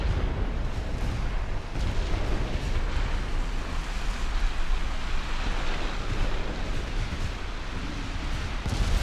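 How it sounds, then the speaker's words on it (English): Naval combat in Ultimate Admiral Dreadnoughts, with a sinking battleship taking torpedo hits and gunfire: a dense, continuous roar of rumbling explosions and churning sea, loud and steady throughout with no voices. "The sinking battleship continuing to take torpedoes, which were already on the way."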